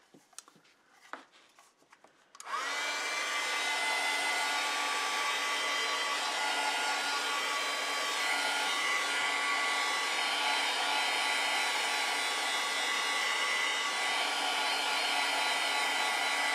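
A hair dryer switches on after a couple of seconds of quiet handling and blows steadily and loudly, drying an acrylic painting of a melting snowman, with no talk over the even, unbroken roar.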